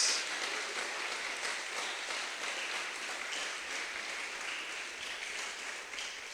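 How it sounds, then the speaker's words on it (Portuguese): A church congregation applauds steadily, a dense even wash of clapping that starts strong and continues throughout. "Uma salva de palmas para o Senhor."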